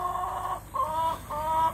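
Cream-colored laying hens in a flock of about 85 cluck in three close, drawn-out calls with short gaps between them, loud and clear with no talking.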